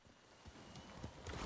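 Horse hooves walking in the video game Ghost of Tsushima, a few soft, faint clip-clop footfalls over a quiet low background.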